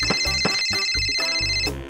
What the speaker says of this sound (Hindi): घूमते घूमते अचानक से उसका फोन बजा।